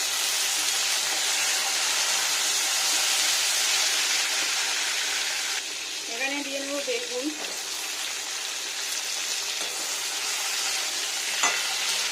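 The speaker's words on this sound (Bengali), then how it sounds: "এবার এখানে বরবটিটা দিয়ে নেবো ভেজে নেবো" Yardlong beans frying in a pan, a dense steady sizzle and hiss throughout that dips slightly midway, with a brief tonal squeak and a faint knock near the end.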